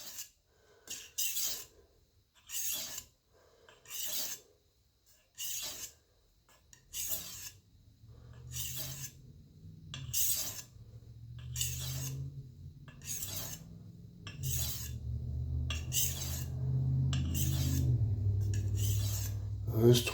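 A chef's knife is ground and sharpened on a stone in close, rhythmic rasping strokes, distinct and evenly spaced at first, then blending into a continuous scraping over a low background hum.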